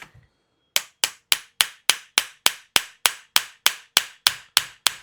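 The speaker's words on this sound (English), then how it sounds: "Let me get this hammer and just see if that's going to help at all." Fourteen sharp metallic knocks from a hammer striking a KWA KMP9 airsoft gun part, evenly spaced about three per second, close and loud, after a brief quiet start.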